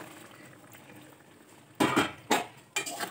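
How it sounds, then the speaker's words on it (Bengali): Curry being stirred in a cooking pot after water has been added, a ladle scraping and knocking against the pot in three loud, short bursts that follow a quiet stretch of low simmering background. "নেড়ে নিচ্ছি, নাড়াচাড়া করছি"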